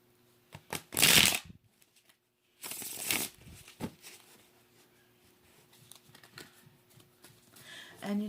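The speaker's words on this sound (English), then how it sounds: "I'm going to pull some cards for your past, present, and then for the future" Tarot cards get riffled and shuffled close up in two brisk bursts, followed by softer card handling and light taps in a quiet room.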